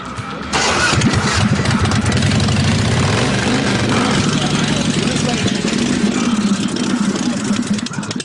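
A custom chopper motorcycle engine cranks and catches at about half a second, then runs loud and close with a rough, throbbing idle for the rest of the clip.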